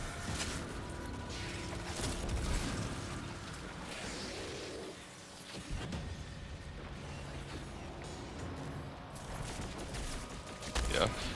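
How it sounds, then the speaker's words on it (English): Fourth Horseman shotgun blasts ring out during a fight against ogres in the Crota raid of Destiny. Shots, explosions and mechanical noise stack up densely, loud and continuous. "I've been using some fourth horseman shots for some of the ogres."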